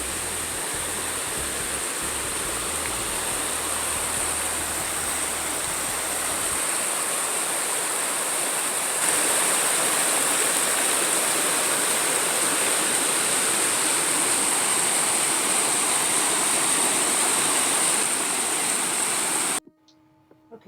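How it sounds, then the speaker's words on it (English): A creek rushes steadily with a dense, constant water roar close by, continuing unbroken until it cuts off abruptly near the end. "show you the beautiful creek that puts the water in our well"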